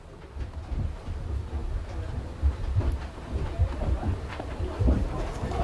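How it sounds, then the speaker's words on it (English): Heavy rain pours down on an outdoor football field during a high school game, a dense continuous roar with low rumbling underneath and no voices. "And the rain just pouring down."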